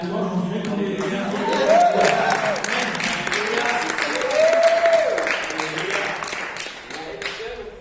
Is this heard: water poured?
no